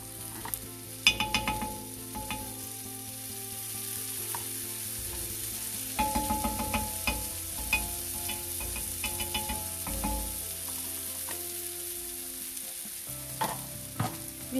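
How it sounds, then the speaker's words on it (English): Hara-bhara kebabs fry in butter in a pan, a steady soft sizzle with occasional scraping and clinks of a spatula, the crackle continuing quietly throughout. "We'll allow it to fry till little brown in shade, then flip it around."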